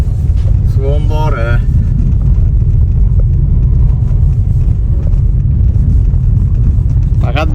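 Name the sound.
car driving on a rough rural road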